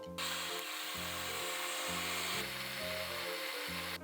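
An electric blender grinds soaked mung beans with water, a loud steady whirring motor that pulses in level, dipping and returning several times, with no voices.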